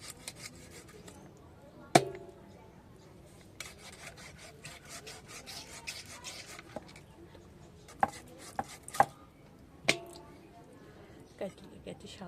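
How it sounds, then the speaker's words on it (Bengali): Pangas fish being cut on a boti blade, scattered wet chopping thuds and scraping rubs over faint background noise, with a voice talking. "আমাদের মাছটা কাটা প্রায় হয়ে গেছে"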